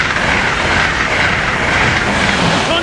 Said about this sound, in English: Here we got a Acela train